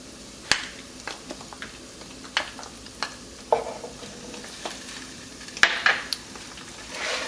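Chorizo frying in oil in a pan, a low steady sizzle broken by sharp clicks and scrapes of a utensil stirring against the pan at irregular intervals.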